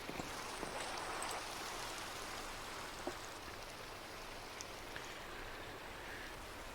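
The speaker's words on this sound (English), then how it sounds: "I don't like the sound of that rain." Steady rainfall in a video game hisses continuously, with a few faint drip-like taps scattered through; no one speaks.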